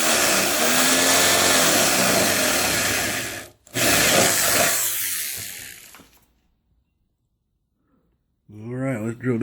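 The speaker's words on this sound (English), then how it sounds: "let's drill these holes out" A power drill with a hole saw grinds loudly and steadily, pauses briefly, runs again, then stops; a voice speaks briefly at the end.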